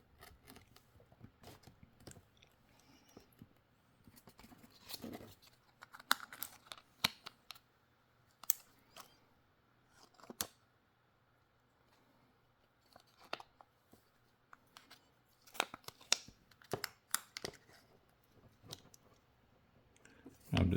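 Small screws being backed out from the bottom edge of an iPhone 16 Pro Max during a battery replacement, heard as faint, scattered close-up clicks and light tool taps with quiet pauses between them.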